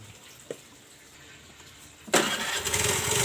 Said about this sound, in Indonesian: motor ini tidak akan bisa hidup walaupun kita starter sampai kehabisan baterainya juga masih tidak akan bisa hidup karena terlalu banyak oli